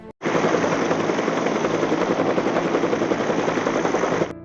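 A helicopter on a Vietnam War air patrol thrums loud and close, its dense rotor chop running steadily throughout before cutting off abruptly.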